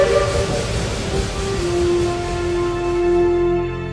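Steam train whistle, a loud sustained tonal blast with steady harmonic pitches over hissing steam and low rumbling, fading toward the end.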